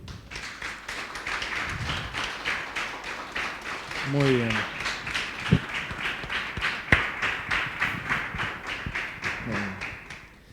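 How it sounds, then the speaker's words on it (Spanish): Church congregation clapping in a steady rhythmic beat throughout, with a voice speaking over the applause partway through. "Pues dale un aplauso a Jesús."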